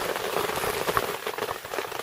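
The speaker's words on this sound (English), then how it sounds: "It's pouring rain. It's been raining all day, most of the night" Steady pouring rain falls in a wet outdoor setting during a hunting trip, a dense continuous patter with no talking, held at an even level throughout.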